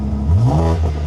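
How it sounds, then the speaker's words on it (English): BMW M3 with a newly installed exhaust revving once, a loud close engine note that rises sharply and falls back within about a second, with no talk over it. "Rev it."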